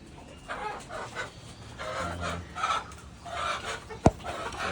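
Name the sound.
desi hen clucking on farm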